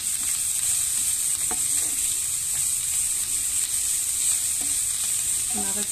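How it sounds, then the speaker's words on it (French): Onions sizzle steadily in a hot pan as the filling for minced-meat bricks is cooked, a constant bright frying hiss with occasional soft utensil scrapes, close and unbroken by speech. "On va laisser chauffer un peu les oignons."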